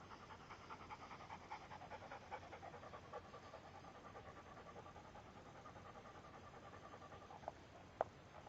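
A puppy named Minnie pants rapidly and rhythmically close by, a steady run of quick breathy huffs with a couple of sharp clicks near the end.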